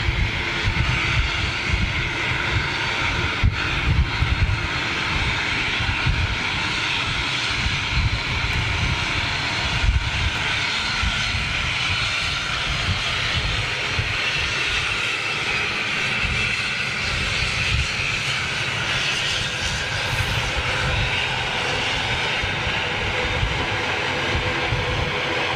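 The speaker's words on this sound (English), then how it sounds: "Quite a heavy landing there. A smoky old touchdown." T-tail jet airliner touching down heavily, a long loud roar of engines and rushing wind with a rumbling low end, steady and sustained from a distance, with no voices.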